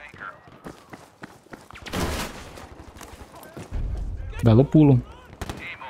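Gewehr 43 rifle gunfire in the Battlefield V video game, a few sharp shots among clicks and thuds, with someone talking briefly between them.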